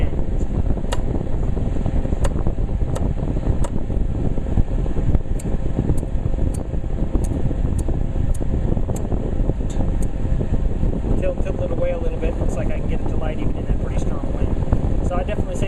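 Steady, loud rush of air from an electric fan blowing close by, continuous throughout, with a voice speaking over it and faint clicking from a Zippo lighter being tried against the airflow.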